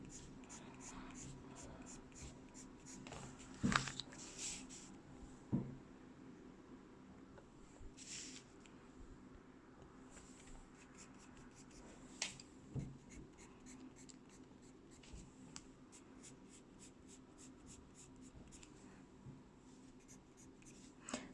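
Soft, scratchy coloured pencil strokes on paper, repeated in quick light lines, close and quiet with a few small taps.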